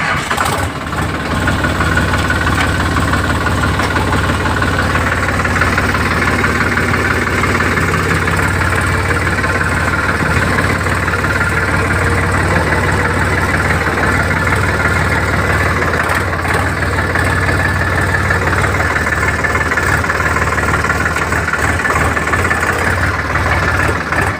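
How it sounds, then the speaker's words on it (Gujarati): A tractor engine idles steadily for the whole stretch, a continuous low rumble and vibration close by with no break in rhythm and no talk over it. "ટ્રેક્ટર ચાલુ કરવાનું છે."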